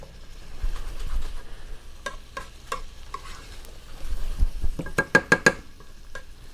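Leeks and garlic cook in a pan, a soft sizzle under scattered utensil scrapes and taps, ending in a quick burst of four sharp stirring clicks close by.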